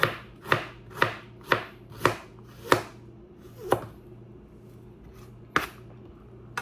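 Sharp knife chops on a cutting board, a steady series of crisp strikes about every half second, pausing briefly before two more cuts.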